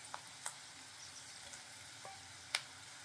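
Vegetables with chopped tomatoes frying in a pan for paneer rolls, a soft, steady sizzle at moderate distance with a few faint clicks and one sharper tap, no talking.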